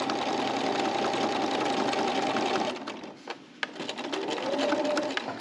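A sewing machine stitching a quilt border in quilt-as-you-go piecing, running loud and steady up close, pausing briefly, then starting again.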